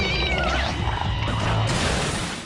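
A cartoon cat lets out a loud, drawn-out meow with a wavering pitch, close and prominent over a busy background of other sound.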